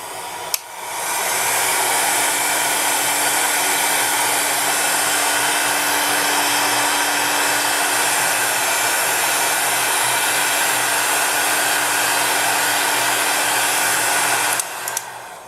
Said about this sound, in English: So I'm going to bring over a heat gun and I'm going to heat this.